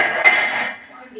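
Wet metal household utensils clink and clatter together in one sharp, close impact that rings out briefly, with a faint voice in the background.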